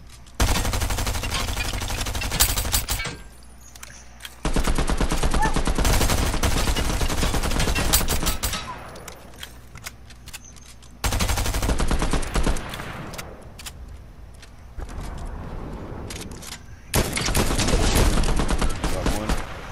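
Bursts of video game gunfire from Fortnite Chapter 3 Season 3, loud dense volleys in several blocks separated by quieter gaps, with no talk over them.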